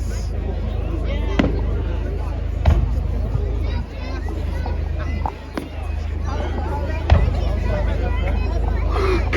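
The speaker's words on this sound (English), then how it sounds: "We've had some few decent fireworks." Fireworks display over Poole Quay, several sharp bangs spaced a few seconds apart over a busy crowd babble and nearby talking, with ducks quacking faintly in the background.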